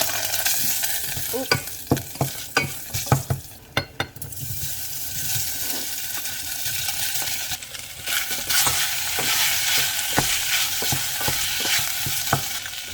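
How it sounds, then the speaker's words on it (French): Garlic frying in olive oil in a pan, a steady hiss and sizzle with a burst of sharp utensil scrapes and clinks early on, then occasional stirring taps, with no voices. "Je mets un peu l'huile d'olive et je fais revenir de l'ail."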